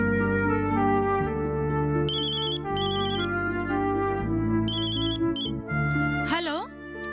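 A telephone rings in a household drama, a repeating electronic ring in short bursts over a steady musical background, with a voice briefly heard toward the end.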